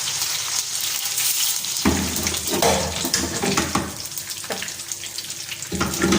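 Peppers sizzling and frying in hot oil in a pan, a steady loud crackle with occasional shakes of the pan and clatter, with no one talking.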